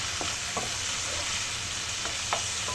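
Chop suey being sautéed in a pan, a dense continuous sizzle broken by several scraping stirs of a utensil, close and fairly loud, with no talking.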